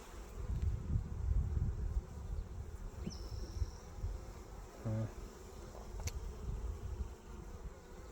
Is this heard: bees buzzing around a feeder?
yes